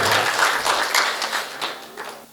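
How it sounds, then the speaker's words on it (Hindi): An audience at a Hindi comedy poetry recital claps briefly, a short burst of scattered, fairly close hand claps that thins out and fades within a couple of seconds. "एक बार तालियां बजाकर थोड़ा सा कमाल कविता"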